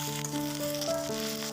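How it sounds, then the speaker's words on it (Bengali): Eggs and vegetable pieces fry in hot oil, a short spell of soft close sizzling, steady and continuous with faint tonal hum behind it. "এখন মাথাগুলো একটু ভেজে নেব লাল লাল করে"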